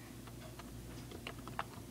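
Quiet typing on a computer keyboard: a brief run of light, irregular key clicks over a low background hum, with no voices.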